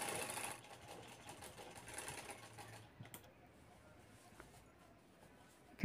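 A sewing machine stitching a zip onto a home-made shopping bag, a fast whirring run of stitches for about three seconds before it stops, leaving quiet room noise and a faint click.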